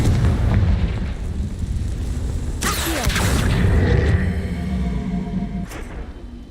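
A Confringo blasting spell in Hogwarts Legacy bursts with a heavy explosive boom and a crackling blast, loud over a rumbling game soundscape, followed by lingering debris-like rumble and a second fainter hit near the end.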